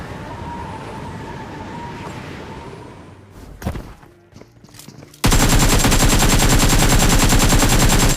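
Gunfire in a Free Fire battle during a solo ranked push, with an enemy spraying shots and blowing out a buggy tire; quieter engine and thuds give way to a loud, sustained rapid automatic burst.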